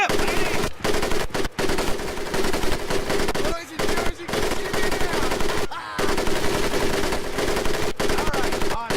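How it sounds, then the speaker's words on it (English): Sustained, loud machine gun fire in the WWII shooter Medal of Honor Pacific Assault pours out in continuous bursts with only brief gaps, dense and close throughout. "Okay, let her rip, lady!"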